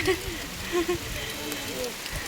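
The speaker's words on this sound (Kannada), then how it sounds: "ಮಳೆ ಸ್ಟಾರ್ಟ್ ಆಗೋಯ್ತು" Rain falling outdoors at Muttatti around a tractor, a steady wash of hiss with some heavier bursts, while voices are heard talking over it.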